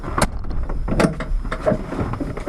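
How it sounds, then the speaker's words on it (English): A door closing on a 1985 Toyota LiteAce CM21 three-quarter-ton truck with a 1300cc 4K-J engine, a few sharp knocks and a thud heard close up, with no talk over them. "Solid door closure, that's for sure."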